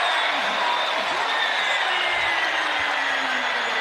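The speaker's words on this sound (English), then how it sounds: "Crowd making a lot of noise here at the People's Bank Arena in Hartford" Arena crowd at a college basketball game between UConn and DePaul in Hartford's People's Bank Arena, a loud sustained roar of noise filling the space with a faint voice underneath.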